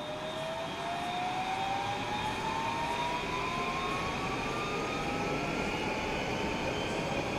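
A commuter train pulls away on the Yamanote line in Densha de Go, its electric motor whine rising steadily in pitch over a constant rumble of wheels, loud and close, with no voices.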